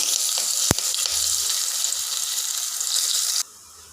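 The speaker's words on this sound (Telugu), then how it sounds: "కాకరకాయలు వేగాయి ఇప్పుడు కరివేపాకు వేసుకుందాం" Curry leaves hitting hot oil with frying bitter gourd, a loud close hiss and crackle with a sharp pop early on, sizzling steadily before cutting off abruptly near the end.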